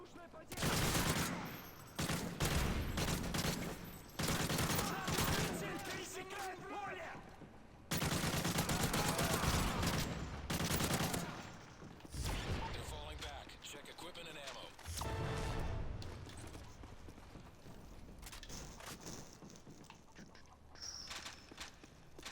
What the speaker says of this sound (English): Nice example of how good the sentry gun can do for you.